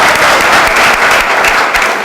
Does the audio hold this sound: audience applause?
yes